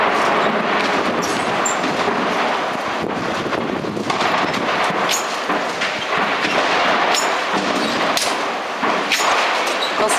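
Heavy continuous shelling pounds the besieged Homs neighbourhoods of al-Qusour and Jouret al-Shayah, with repeated booms and bangs over a constant windy rumble.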